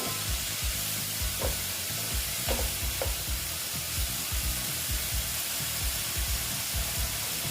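Spice masala fries in oil with salt added for an egg and potato curry, giving a dense, loud, continuous sizzle. Rhythmic stirring strokes and scrapes repeat throughout at close range.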